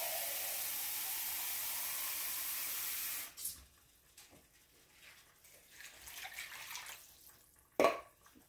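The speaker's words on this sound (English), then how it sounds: "A cup of water, I'm just going to fill that same coconut milk can." Tap water pours steadily into an empty coconut milk can for about three seconds, then stops, followed by faint handling clatter and a sharp knock near the end.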